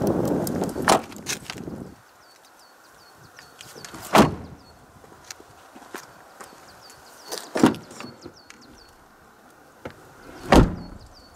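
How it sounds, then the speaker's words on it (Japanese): A Toyota Vitz Hybrid compact car's door is handled, with several sharp, solid thuds and latch clicks spaced apart, the second closure loudest, against a quiet background. "ドアの音は、閉めるときは、コンパクトカーとは思えないくらい上質ですが"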